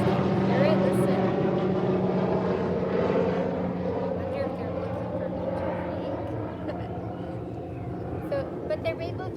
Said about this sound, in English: There's a helicopter right above us. Can you hear it?